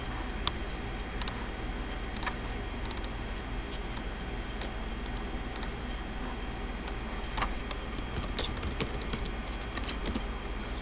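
Light typing on a computer keyboard, quick irregular clicks and taps at close range, soft and steady with no talking over it.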